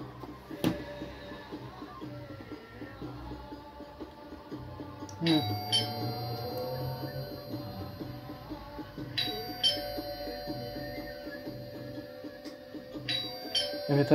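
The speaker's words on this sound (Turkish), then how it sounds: "zil niye tekrar çalıyor?" A battery-powered wired door chime rings in a few bright ding tones that recur at intervals, heard close over a persistent background hum with a person talking.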